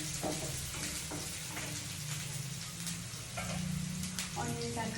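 Onions and curry leaves fry in a pan with a steady, close sizzle and crackle that runs throughout, with soft scattered pops and faint background noise.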